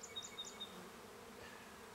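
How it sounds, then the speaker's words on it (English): Honey bees buzz steadily around an open beehive during a springtime hive split, a continuous dense hum with a few closer individual bees passing briefly near the start. "Lots of bees."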